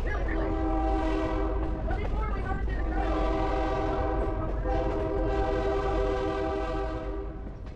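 A Great Smoky Mountains Railroad train rumbling loudly along the Nantahala River gorge, its horn sounding in long sustained blasts over the steady clatter of the cars.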